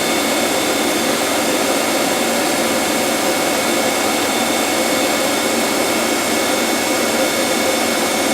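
Steady, loud, broadband whir of a Citizen K16 CNC Swiss lathe with the main spindle running at 5,000 RPM, heard up close as a constant mechanical hum with no variation.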